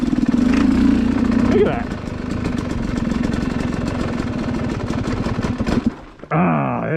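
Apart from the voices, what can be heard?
Yamaha YZ250X two-stroke motorcycle engine idling at low RPM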